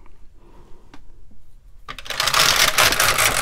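A domestic knitting machine, a KX350 or LK150, knitting a Fair Isle brick-stitch row: a few faint clicks, then the carriage sweeps across in a loud, dense rattling rush that continues to the end.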